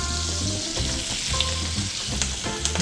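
Vegetables hit melting butter in a frying pan, giving a loud, continuous sizzle with crackling pops and a few stirring scrapes, close and alone with no talk.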